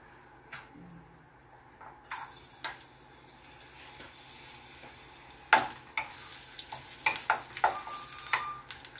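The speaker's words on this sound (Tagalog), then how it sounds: "At lagyan po natin ng bawang at sibuyas." Garlic and onion hitting hot oil in a pan: near-silence at first, then a rising crackling sizzle with sharp spatters and utensil taps that grow busier toward the end.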